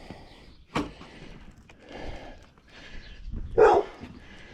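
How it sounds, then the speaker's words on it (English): A dog barks a few times in short separate bursts, fairly close, with some whimpering between barks, on a countryside road in Buhl, Idaho. "What are you doing barking like that? Huh? Why are you guys barking?"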